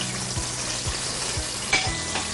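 Chopped onions hiss and crackle in hot oil in a pan for rice, a steady broadband sizzle with a few soft knocks and one sharper spit, close and fairly loud, with no talking.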